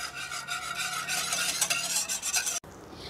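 Coconut cream being stirred in a pot to dissolve agar-agar powder: a steady, close, wet rasping swish that stays continuous for a few seconds before breaking off abruptly near the end.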